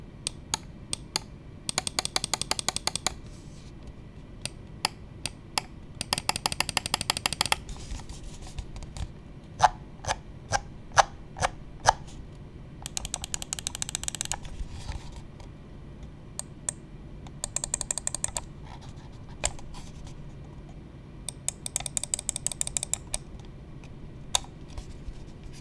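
Bursts of rapid button clicking on an Endgame Gear OP1we gaming mouse alternate with sparse single clicks, close and crisp, against a quiet background.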